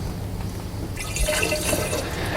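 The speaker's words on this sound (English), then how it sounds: "I've mixed some antifreeze and water 50-50, and we'll see how much we can get in now" A 50-50 mix of antifreeze and water is poured into the radiator of a Land Rover Discovery 300 TDI, giving a steady close liquid trickle and gurgle that grows fuller and splashier partway through, with no talking.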